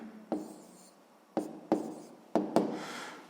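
Pen strokes writing out a sixth-grade math solution on paper, a few short scratchy bursts separated by pauses, close and quiet with no talking.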